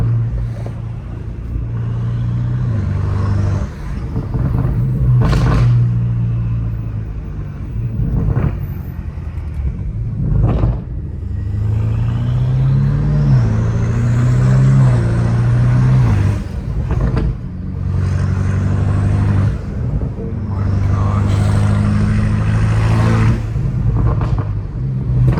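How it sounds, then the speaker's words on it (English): A catless BMW M5 Competition rumbles loudly with its turbo spooling, with deep engine drone, repeated rising revs and sharp bursts over about twenty-five seconds, close and powerful. "Now you're really gonna start hearing the spool."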